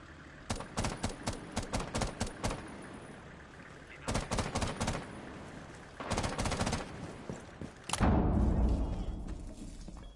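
Bursts of automatic gunfire with recoil in an esports tactical shooter match, three rapid volleys of loud close shots separated by short pauses, ending in a heavy boom.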